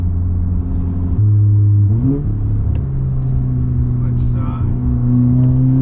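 Audi S3 with an EQT Vortex XL big hybrid turbo on an IS38-style housing accelerating hard, a loud close engine drone rising in pitch through several gears with brief shift dips, heard from inside the car while someone briefly speaks.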